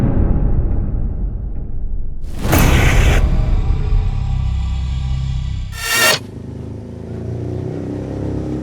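A sport motorcycle's engine revs in bursts, with two sharp, loud whooshing surges standing out over a steady, close engine drone.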